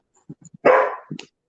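A dog gives one loud close bark, preceded by a few soft grunts and followed by a short yip, during a live online interview.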